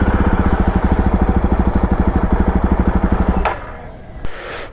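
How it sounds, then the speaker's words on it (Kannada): A Jawa Bobber 42 motorcycle engine runs close by with a steady, rapid thumping idle that stops abruptly after about three and a half seconds, followed by quiet handling clatter and a brief sharp knock. "ಗಾಡಿ ಮೂವೇ ಆಗ್ತಿಲ್ಲ, ಸ್ಟಾರ್ಟ್ ಆಗ್ತಿದೆ, ಮೂವ್ ಆಗ್ತಿಲ್ಲ ಗಾಡಿ"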